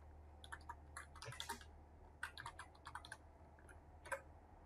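Soft typing on a computer keyboard while entering data in Excel: quiet clusters of light key clicks separated by short pauses, close to the mic against a low background hum, with no talking.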